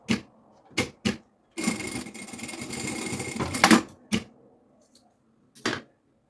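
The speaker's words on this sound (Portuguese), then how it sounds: "Vamos passar uma costura." Sewing machine stitching a seam on a child's preschool backpack, running in short bursts: a few quick clicks, then a sustained whirring run of about two seconds, followed by more brief stitching bursts and pauses, close and clear.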